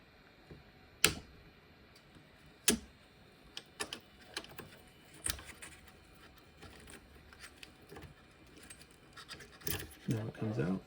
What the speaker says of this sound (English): I'm going to actuate the cutter in order to cut it free.